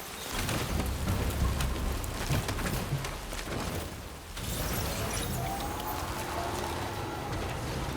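Steady rain falls in the video game Death Stranding 2, a dense continuous hiss of drops pattering on surfaces, fairly loud and close, with a brief lull around the middle before the downpour resumes.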